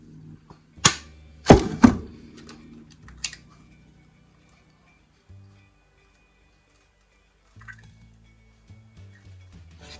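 An egg is cracked against a bowl for chocolate cake batter: a few sharp taps and cracks close together near the start, then quiet drips and soft thuds as the contents fall in.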